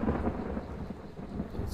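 Thunder rolls through a storm in the video game Hunt: Showdown, a loud, sustained low rumble with steady rain hiss underneath and no speech.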